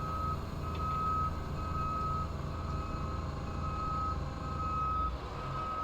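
A truck reversing in the Roadcraft video game, its steady high electronic beep repeating continuously over a constant low engine drone.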